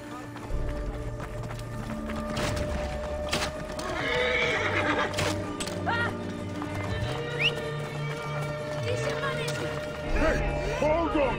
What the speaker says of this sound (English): Pegasus! They stole my horse!